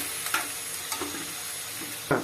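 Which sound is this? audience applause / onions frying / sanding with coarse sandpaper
onions frying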